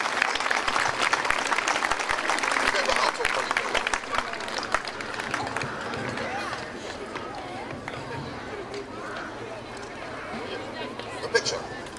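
Audience applause at a Scottish night honoring a retiring piper and a new piper, loud and dense at first, then thinning and fading with crowd babble mixed in.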